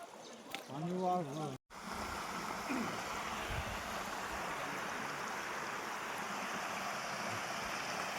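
Water in a jungle stream rushes in a steady, broad hiss that fills the whole stretch, after a brief burst of a voice at the very start.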